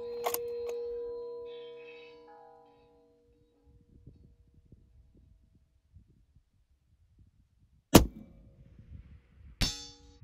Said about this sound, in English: A little bit low on the plate.